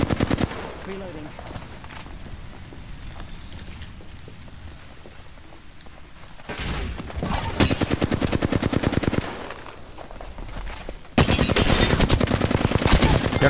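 Flatline assault rifle from Apex Legends firing rapid automatic bursts, a quieter stretch of game ambience giving way to two loud, dense volleys of gunfire late on.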